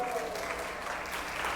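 Church audience applauding the pastor's wife during a service, a steady dense clapping wash that fills the brief moment with some voices mixed in.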